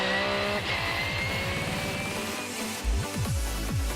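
A BMW M3 GTR race car howls past at speed heading into Galach, its engine note sweeping down in pitch with rapid gear changes and sharp revving blips as it brakes into the corner, loud and close.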